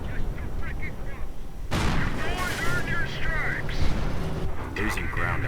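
Artillery fire in a strategy war game lands on exposed Nebelwerfer rocket launchers, a sudden heavy blast followed by rumbling explosions and crackling impacts, with a commentator talking excitedly over the din.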